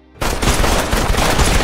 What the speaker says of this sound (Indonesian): Reacher CS langsung memberondongnya dengan tembakan.